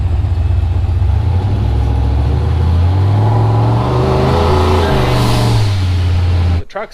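A turbocharged 5.3 engine in an S10 truck accelerates hard and close, its deep roar rising and wavering in pitch as the revs climb, then cutting off abruptly.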